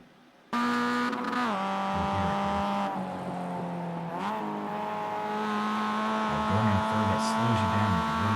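Mazda MX5 race car cornering at Charlotte Roval, its engine droning loud and close with harmonic pitch shifts as gears drop and the revs rise again, while a driver talks over it.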